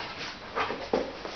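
A dog being shut in a room gives a couple of faint, brief whimpers, quiet and nearby over low background noise.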